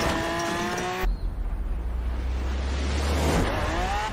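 A 2016 Lamborghini Aventador SV races in Forza Horizon 4, its engine droning loud and steady as a low roar that swells and shifts pitch, with a brief screech at the start and no talking.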